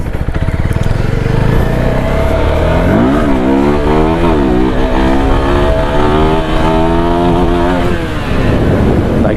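A motorcycle held up on its rear wheel in a wheelie on a windy day, its engine revving hard and rising through the gears up to third, loud and close throughout with clear pitch steps at each shift.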